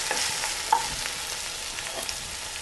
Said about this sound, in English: So I'm going to fish them out. Mix them up with our sauce.